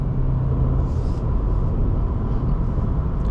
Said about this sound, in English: It's very quiet inside here. The engine is pretty muted.